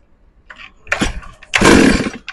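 Stihl MS382 chainsaw after a carburetor service, sputtering through a couple of short pulls and coughs before briefly catching with a louder engine burst, close by.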